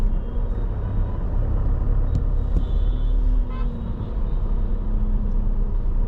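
A Tata Harrier creeps through slow, congested highway traffic, a steady low engine and road rumble inside the cabin with a faint horn-like tone and a few brief clicks, continuous and fairly loud.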